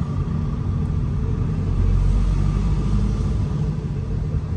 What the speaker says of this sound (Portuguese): aquele caminhão é de limpar a estrada